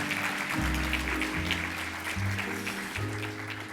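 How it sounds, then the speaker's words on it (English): Audience applause at the 2023 Dr. Martin Luther King Jr. Gala: a steady wash of clapping that runs the whole time, heard fairly softly beneath sustained keyboard chords. "Let's give them all applause and applaud yourselves."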